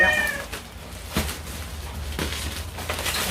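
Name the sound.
cat meowing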